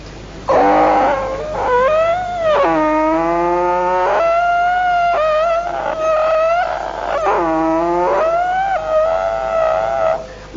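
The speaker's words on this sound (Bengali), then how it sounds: "তো গরু গাড়িতে উঠার পর একটা সুন্দর শব্দ আসছিল সেই গরু গাড়ির চাকার থেকে।" Unoiled wooden bullock cart wheels turning, giving loud, continuous squealing creaks that rise and fall in long, wavering, almost howling tones, heard close up with no talking.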